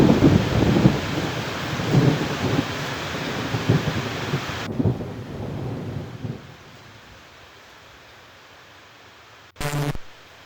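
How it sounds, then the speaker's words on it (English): Outdoor rain falls with rolling thunder, a loud broadband wash with booming low swells for the first few seconds, then dropping to a faint steady hiss, with one brief loud burst near the end. "Yes, it is raining."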